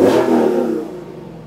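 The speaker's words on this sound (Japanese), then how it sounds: "ちょっとエンジンを吹かしてみたいと思います" A Lexus LC500 Convertible's engine revs up in one loud burst, the roar swelling and then easing back down as it settles toward idle.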